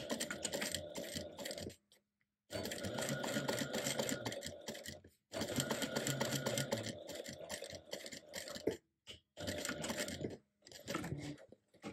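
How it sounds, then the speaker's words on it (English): A sewing machine topstitches a fabric clutch in close, rapid chattering runs of stitches, stopping and restarting several times with short silent gaps between bursts. "I'm going to top stitch right underneath the center"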